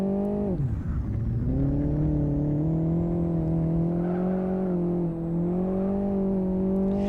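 A car engine held in first gear in the racing game Live for Speed, a loud, close steady drone that dips briefly, then climbs and holds at high revs.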